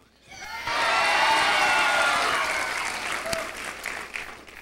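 Audience applause with some cheering and whoops before a comedy show at a barn venue in Pigeon Forge, Tennessee, swelling quickly to a full, loud burst and then slowly tapering off.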